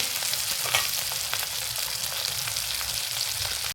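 Stuffed bell peppers fry in a covered pan with onion, giving a steady, close crackling sizzle with scattered pops throughout and a brief clatter at the very end, with no talking.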